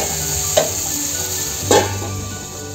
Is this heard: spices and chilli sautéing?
yes